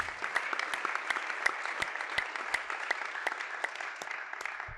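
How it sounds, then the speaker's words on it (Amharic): Church congregation applauding with sharp, irregular claps and a bright ululating edge, moderately close, steady for several seconds. "እልል በሉ እስቲ።"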